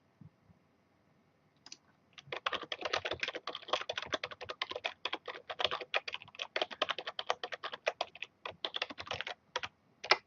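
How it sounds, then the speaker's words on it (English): Rapid clicking keystrokes on a computer keyboard, typing in all caps, rattle on steadily in dense irregular bursts for about eight seconds after a quiet start, close and fairly crisp. "Typing in all caps is not easy."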